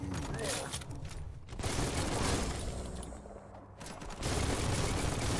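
Dense bursts of turret gunfire rattle in the video game Biomutant, loud and continuous with brief lulls, while a player's voice talks over the action.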